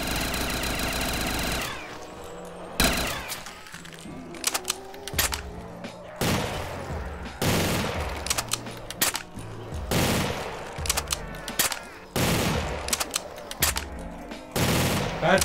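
Automatic gun in a video game firing in repeated loud bursts, sharp close cracks broken by short pauses, over a low mechanical rumble with occasional quiet talk.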